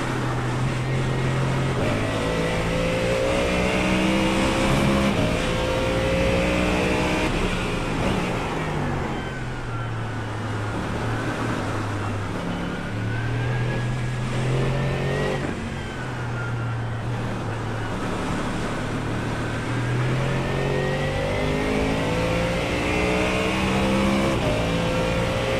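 A Ford Mustang GT3 laps Sebring in a sim racing game, its engine droning loud and steady, pitch climbing through gears and dropping under braking, with continuous revving and shifts and no talk.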